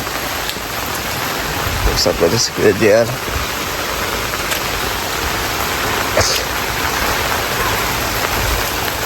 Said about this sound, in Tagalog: Kaso, matigil ngayon kasi lakas ng ulan.